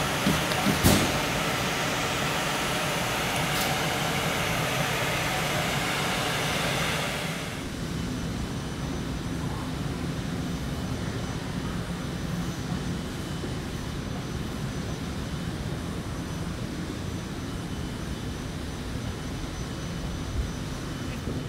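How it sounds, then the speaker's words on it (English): An industrial-size gas extraction vacuum unit in a metal stamping and molding plant runs with a steady loud roar, a brighter hiss dropping away after several seconds while the low drone continues alone. "This particular unit here is the gas extraction unit, okay? And what it is an industrial size vacuum."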